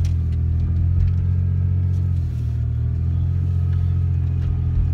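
A van driving on a road at night gives a steady, loud low engine rumble and road drone heard from inside, with a slight shift in pitch midway.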